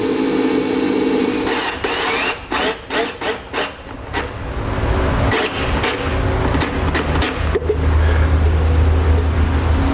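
A power tool drives a self-tapping screw into a car's frame, with intermittent whirring bursts and scraping, rasping contact noises under a steady background hum.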